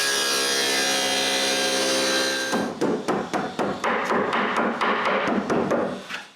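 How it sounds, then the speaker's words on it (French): Power tool cutting a groove in wooden workpieces. A steady high-pitched whine runs for a few seconds, then stops, followed by a series of sharp knocks and taps at irregular intervals nearby. "je dois couper une rainure dans ces morceaux-là aussi"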